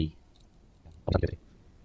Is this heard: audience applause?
no